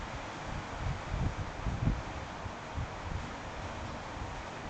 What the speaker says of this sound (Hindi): बारिश स्टार्ट हो गई मेरे यहाँ।